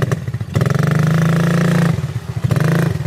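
A quad bike engine revs under the throttle, rising into a sustained, loud mid-pitched roar, dropping back briefly, then revving again up close.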